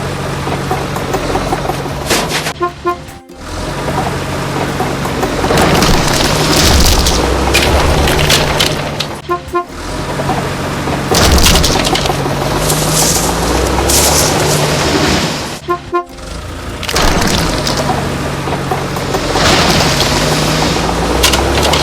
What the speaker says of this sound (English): Don't stop! Let's destroy dilapidated constructions.